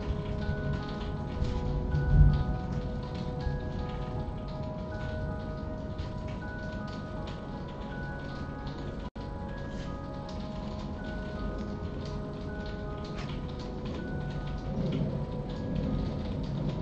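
Steady rain pours down throughout a storm, a dense continuous hiss with a brief low rumble of thunder near the start and faint tonal background sounds.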